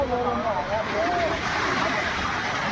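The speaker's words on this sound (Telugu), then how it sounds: "అలలు ఒక రేంజ్ అయితే కొడుతున్నాయి" Sea waves break against the seawall at Marine Drive, Mumbai, a continuous loud rushing wash of surf with voices heard briefly at the start.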